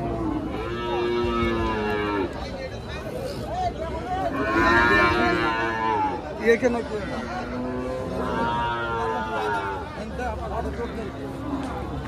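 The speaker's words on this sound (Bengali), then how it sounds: "এই যে একটা বিশাল ধরনের গাভী।" A large cow at a busy cattle market gives several long, loud moos in sequence, over a background of crowd chatter and nearby voices.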